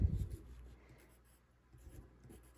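A pencil scratches across a plastic plant tag in a few quick strokes, close and quiet, with soft rubbing bursts at the start and again near the end.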